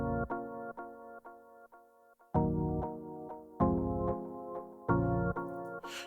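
Spire synth keys patch for an Afro dancehall beat plays short, bright chord stabs in a syncopated rhythm, with a fuller sustained chord every bar or so, clear and alone with no talking.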